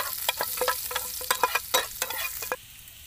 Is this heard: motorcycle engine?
no